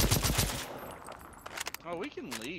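Gunfire in Second Extinction, a co-op dinosaur shooter game, comes as fast automatic bursts that drop to a few scattered shots, with a voice talking over the end.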